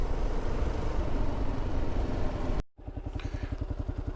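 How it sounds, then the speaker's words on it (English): A fully loaded KLR motorcycle rumbles steadily along a gravel road, its engine droning close and loud, with a brief dropout before the thumping engine note resumes. "this bike handles so much differently when it's fully loaded like this"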